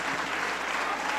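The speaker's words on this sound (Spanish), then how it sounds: "Un aplauso para los de lado." An audience at a live event in Monterrey, Mexico, claps throughout, a dense and steady wash of applause from a crowd that sounds moderately close.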